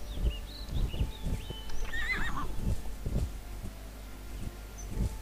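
A horse in the video game Wars and Warriors: Joan of Arc gives a clear whinny over a steady, soft clip-clop of hooves, with faint rustling in the background.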